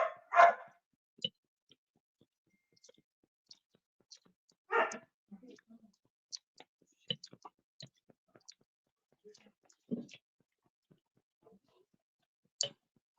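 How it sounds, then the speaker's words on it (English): A dog barks in short separate bursts from somewhere nearby in a quiet room, with a few louder yips spread across a mostly silent stretch and faint clicks between them. "Sorry about my dog."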